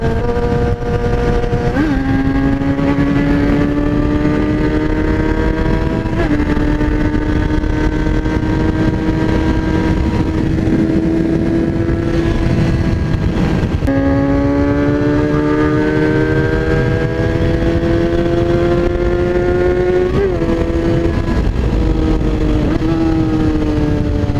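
Kawasaki ZX-6R sport bike engine, loud and close, holding a steady high-pitched whine with several quick throttle blips and upward shifts in pitch, continuous for the whole stretch.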